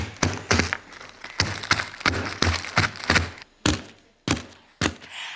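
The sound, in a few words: crushing ice cubes in a freezer bag with a rolling pin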